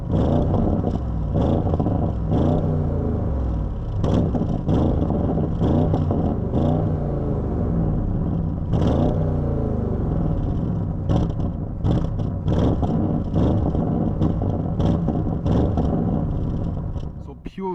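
An Audi RS7 Performance V8 is heard from outside the car, revving loud and close in repeated sharp blips over a continuous deep rumble, with quick bursts spaced every second or two.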